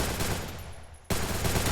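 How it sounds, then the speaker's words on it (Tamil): Rapid automatic gunfire in the mobile battle royale game Free Fire, loud and dense bursts that cut out briefly to near silence before resuming at full intensity. "எங்க இருந்து அடிக்குறான்?"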